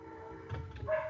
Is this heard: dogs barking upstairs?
yes